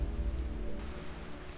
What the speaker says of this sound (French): La pluie, cet élément de la nature qui a dû faire alliance avec ce village côtier depuis toujours